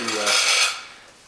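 A knife spreads ceramic tile mortar, producing a single close, gritty rasping scrape that fades away within about a second.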